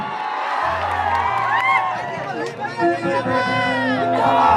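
Large crowd cheering and whooping for a Bhojpuri superstar at a live stage event, loud excited roar with music droning underneath and shouting voices throughout.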